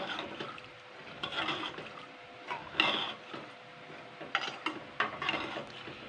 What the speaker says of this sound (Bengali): এবার আমি এই হাতাটা দিয়ে একটুখানি নাড়াচাড়া করে দেবো